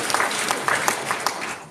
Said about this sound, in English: we can tell by the applause after each comment